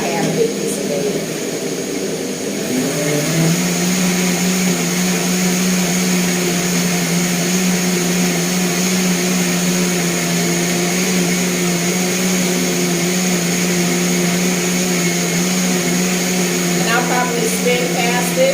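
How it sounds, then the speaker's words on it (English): A countertop blender whirs cashew milk and bananas, starting with a rising spin-up and then holding a loud, steady motor drone with a slight whine, ending with a short clatter. "The longer you blend it, the frothier and smoother it'll get."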